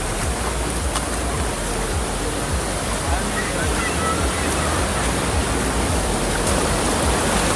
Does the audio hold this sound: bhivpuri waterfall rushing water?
yes